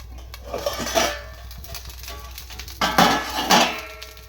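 A lid lifted off a pan of ragi dosa cooking on the stove, giving two or three short metallic clinks and scrapes close by, the loudest pair near the end, with no talking.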